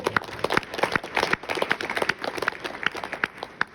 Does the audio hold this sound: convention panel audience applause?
yes